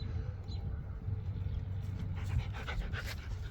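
A dog pants steadily nearby, quick breathy huffs continuing through the clip over a low background rumble.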